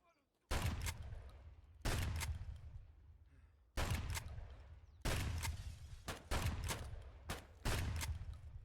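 Shotgun blasts in the video game Escape From Tarkov, six loud booming shots at irregular intervals, each with a sharp attack and a decaying tail, with no voices.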